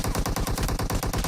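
AKM rifle firing full-auto in PUBG Mobile, a rapid, even string of about a dozen loud gunshots in close succession with no talking.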